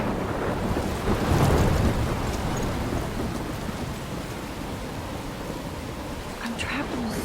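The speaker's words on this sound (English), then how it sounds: "I'm trapped in a storm?" Thunderstorm in the video game Life Is Strange, with a steady wash of heavy rain and wind and a low rumble of thunder swelling near the start, a continuous loud storm bed with no speech.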